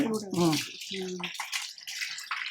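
Goat tripe is washed with water, giving close splashing and sloshing bursts broken up by a person speaking.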